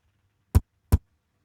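An unprocessed kick drum in FL Studio strikes twice in quick succession, about 0.4 seconds apart. Each hit is a short, dry, bass-heavy thud over a faint low hum.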